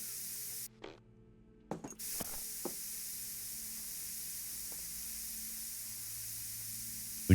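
A decontamination sprinkler sprays in the Chernobyl Liquidators video game, a steady high hiss running throughout, briefly cutting out before resuming with a few short clicks and knocks.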